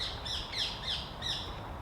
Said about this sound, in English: Another bird I was really happy to run into close up was this beautiful great tit.